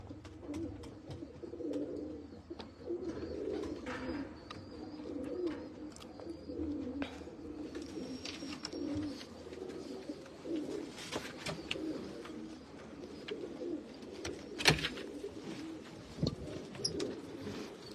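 Faisalabadi blue dumba pigeons at a breeder's loft give a steady chorus of soft, low cooing, with occasional sharp clicks and taps scattered through the long stretch of murmuring.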